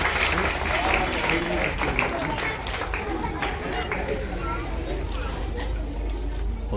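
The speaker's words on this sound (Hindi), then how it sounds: "बच्चे जोरदार तालियों से स्वागत।" Loud sustained clapping from a crowd of children, with voices chattering underneath throughout.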